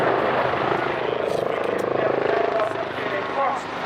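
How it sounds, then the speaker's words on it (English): Helicopter flying at an air display, a loud close rotor roar with a steady rapid chopping pulse, fading slightly toward the end. "This is a moment helicopter fans been waiting for."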